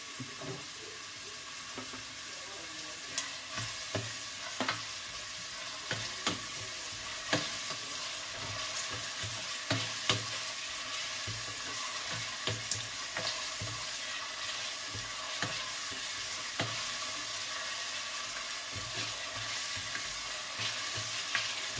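Onions frying in a pan over raised heat, a steady close sizzle with frequent clicks and scrapes of stirring through the whole stretch, no talking.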